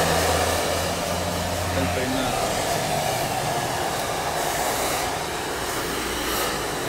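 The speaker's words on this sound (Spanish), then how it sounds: "Recuerden que el secador tiene que estar a mitad de calor y después darle aire frío" A hair dryer blows in a barbershop during a men's hairstyling, a loud steady whooshing roar held close throughout, with a brief low hum at the start and a short spoken word under it.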